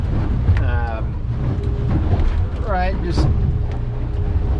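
A Stabicraft 2050 Supercab boat idles through rough water at about 5-6 mph in high wind, giving a steady low engine rumble and wind buffeting beneath a man's close speech.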